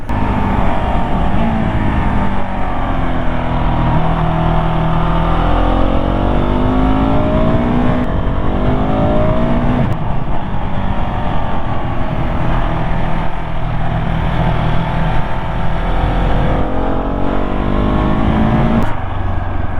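A 2019 KTM 690 SMCR single-cylinder motorcycle engine drones loudly while being ridden, its pitch climbing and falling through repeated gear changes and throttle rolls, with steady wind rush underneath and no voices.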